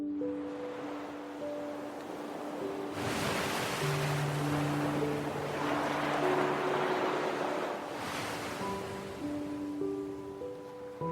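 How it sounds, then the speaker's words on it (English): Ocean waves crash against seaside cliffs in broad, slow surges that swell and recede, with soft sustained musical tones lying beneath the roar of the surf. "to where the waves slowly crash against the cliffs"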